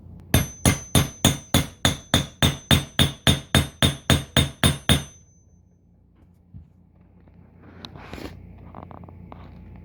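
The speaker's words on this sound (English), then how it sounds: "you can just tap them in with a hammer, lightly tap them" About fifteen crisp, evenly spaced hammer taps on metal ring out over five seconds as studs are lightly tapped into a Super Duty park brake part, then a quiet room with faint handling sounds.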